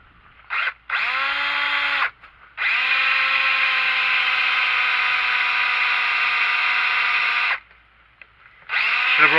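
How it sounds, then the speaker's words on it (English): An electric drill whines at steady high speed while boring a hole through a Leyland clutch pedal, with a short burst, a brief pause, then a long sustained run and a final restart. "we'll drill that hole through there"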